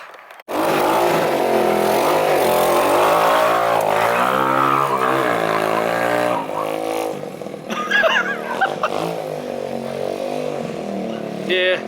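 A minibike engine revs hard and loud with steady exhaust pulses, dropping to a rougher idle partway through, while people talk and exclaim over it.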